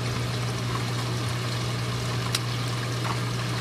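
Water from a bio pellet reactor in a reef aquarium setup spills steadily into a protein skimmer inlet, making a continuous close trickling wash over a low constant pump hum, with no voices.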